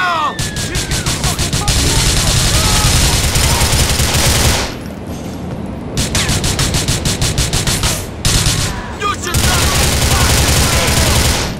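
Rapid automatic gunfire from the video game GTA IV rattles in long dense bursts, loud and close, broken by two short pauses and resuming each time.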